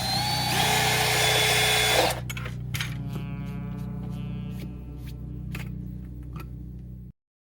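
A power drill whines loudly as it bores into plastic for about two seconds, then stops, leaving a scattering of light ticks and clicks as it winds down.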